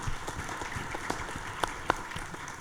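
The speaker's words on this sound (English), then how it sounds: "I actually want you to continue your applause for Miss Keri Potts" Applause from an audience at a talk on social action, steady clapping with a couple of sharper nearby claps, heard alone without speech.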